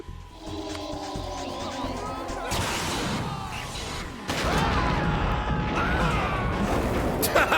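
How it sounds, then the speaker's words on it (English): A stock explosion from the video game Metal Gear Solid 2 bursts out in a couple of loud crashing blasts over game sound and chatter, with voices talking throughout. "That stock explosion noise."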